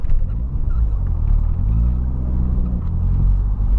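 A turbocharged BMW E36 318is engine rumbles loud and close, its deep droning tone rising slightly as it is revved from low speed and then held.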